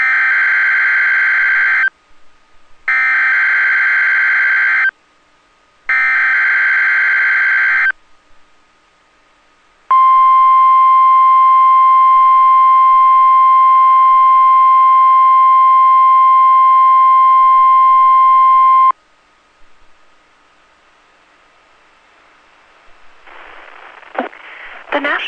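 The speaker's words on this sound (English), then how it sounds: "has just activated the warning alarm on 13 weather radio stations across central and southern Minnesota and west central Wisconsin" Emergency Alert System warning alarm on a weather radio: three loud, steady data bursts, then a long continuous single-pitch alert tone lasting several seconds, followed by quieter broadcast sound.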